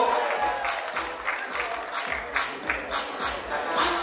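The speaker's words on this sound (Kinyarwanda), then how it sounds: "Amashyi menshi cyane kuri Pascaline" Applause rings out for actress Ingabire Pascaline at the International Rwanda Movie Awards ceremony, a moderate burst of uneven hand claps from a crowd, with a voice speaking over it.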